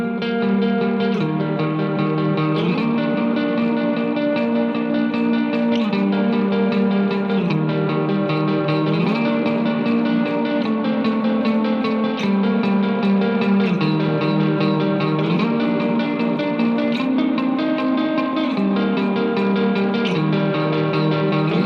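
Distorted electric guitar chords play through a Strymon Brigadier analog delay pedal with added reverb, each strum trailing off in soft repeating echoes, loud and continuous at a slow tempo with no talking.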